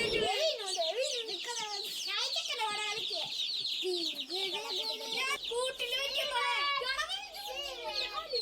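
Day-old Gramasree chicks from a government hatchery cheep continuously in dense, shrill overlapping peeps, close and lively throughout.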